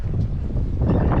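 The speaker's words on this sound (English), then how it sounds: "You'll have to bear with me, it is a bit windy" Wind buffets the microphone outdoors on a farm runoff near dry cows, a steady low rumbling roar that swells slightly toward the end, with no voices over it.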